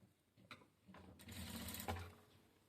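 A sewing machine stitches blouse fabric in short bursts, whirring faintly and close, with a few mechanical clicks before a steadier run of stitching that stops abruptly.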